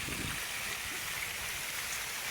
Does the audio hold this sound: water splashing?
yes